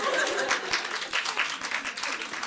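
Comedy club audience applauding in a sparse, quarter-full room for about two and a half seconds, with scattered claps mixed with murmuring voices and a little laughter.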